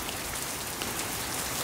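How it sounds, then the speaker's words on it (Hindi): Heavy rain pouring down steadily, a dense continuous hiss of drops hitting surfaces, close and loud with no pauses. "बहुत मजे की बारिश हो रही है."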